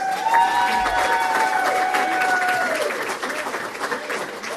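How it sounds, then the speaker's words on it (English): A large audience at a Crow Canyon Country Club awards event applauds and cheers loudly and continuously, the clapping easing slightly toward the end. "Again, round of applause for Tim Argenti at Republic Services."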